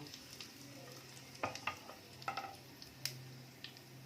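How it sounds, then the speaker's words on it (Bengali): Whole cumin seeds and three dried red chillies frying in hot mustard oil in a kadai, a soft steady sizzle broken by sharp spatters and stirring clinks, close but fairly quiet. "তার মধ্যে একটু গোটা জিরে দিয়ে দিলাম, 3টে শুকনো লঙ্কা দিয়ে দিলাম ফোড়নের জন্য"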